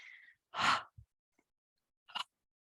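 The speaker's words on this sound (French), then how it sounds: "Breathe in through the nose and breathe out with a ha." Bellows breathing in a yoga session: air is drawn in through the nose, then one forceful exhale through the mouth makes a breathy "ha", followed by a few short, faint breath sounds in a quiet room.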